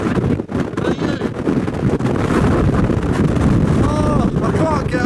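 Strong storm wind roars on Glastonbury Tor during Storm Eunice, a loud, constant buffeting rush across the microphone with people talking under it.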